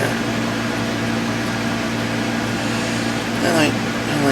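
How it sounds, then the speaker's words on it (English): An air conditioner runs indoors as a steady, loud broadband hum with a constant droning tone throughout, with a brief faint squeak near the end. "just the white noise of the air conditioner running"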